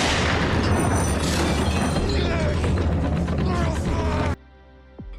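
Gunfire in a Peaky Blinders series scene set in the 1920s: a dense, loud burst of crashing shots and impacts over continuous noise, cutting off abruptly into near silence with a brief sharp sound at the end.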